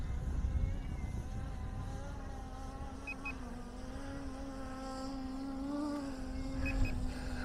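An SJRC F11 Pro 4K drone flying outdoors in a breeze near trees, its propellers giving a steady whining buzz that rises and falls slightly in pitch over a constant rumble of wind.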